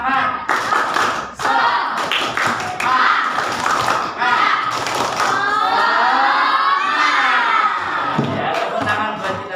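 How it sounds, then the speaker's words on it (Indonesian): Rhythmic group clapping in an Indonesian classroom chant, with a crowd of young voices shouting along, loud and close, in quick patterned bursts. "Kita tepuk semangat dulu."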